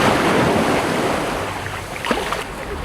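Ocean surf washes steadily onto a beach in Thailand, a continuous loud rush mixed with wind buffeting the microphone, with no speech.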